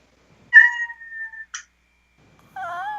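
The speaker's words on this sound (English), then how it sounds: "this is a kitty" A cat meows in a few distinct calls, one long drawn-out cry, a short chirp, then a wavering meow, close and clear against silence.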